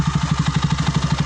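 A motorcycle engine idles with its exhaust pipe covered, giving a steady, rapid, even pulsing thump close up with no knocking or rattling and no talk.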